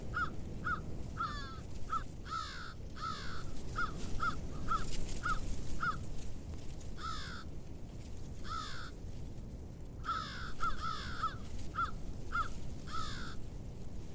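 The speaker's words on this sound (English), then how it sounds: "There are plenty of crows coming and going" Crows caw repeatedly near a hawk-watching blind in rural Wisconsin, harsh calls arriving in short bursts and irregular clusters, some nearer and some farther, over a steady background hiss of open air.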